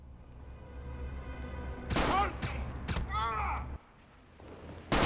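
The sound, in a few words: gunshots in Star Trek Judgement Rites video game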